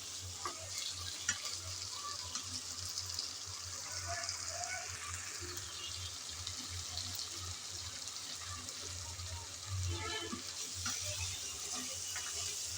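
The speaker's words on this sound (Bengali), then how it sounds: "এখন একটু সময় ধরে ভালোভাবে আলুটাকে কষিয়ে নিতে হবে।" Potatoes with spices sautéing in a pan, a steady, faint sizzling hiss that runs unbroken throughout with a low background hum.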